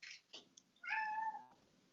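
A pet cat indoors lets out one clear, drawn-out meow after a couple of brief faint sounds, quiet and close.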